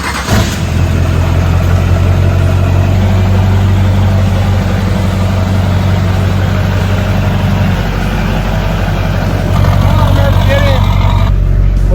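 A hot rod engine running with no carburetor fitted, catching and settling into a loud, rough, low idle that holds steady, with brief surges in revs, inside a hot rod shop.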